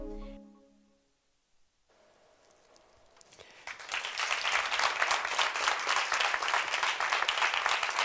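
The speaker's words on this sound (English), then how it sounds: "Big applause to them." After a tone and a brief quiet, applause from the audience at a European research project's closing event builds up and carries on steadily, loud and full, from a crowd in a hall.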